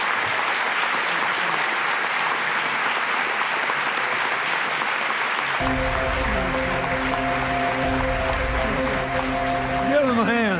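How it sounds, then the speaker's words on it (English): A large audience at a mainstage conference session bursts into sustained applause for the people on stage, a dense, steady wash of clapping throughout; partway through, music with sustained tones rises beneath it, and a voice joins near the end. "Please give everyone on the stage and everyone they represent just an enormous round of applause."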